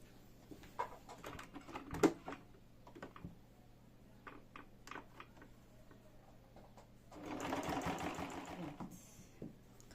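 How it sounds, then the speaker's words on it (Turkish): A domestic sewing machine stitches the cover of a fabric tablet case. Quiet, rapid ticks come in short bursts, then a longer whirring run of stitches near the end, all at low volume. "Şuradan tekrar dikiş basmak istiyorum."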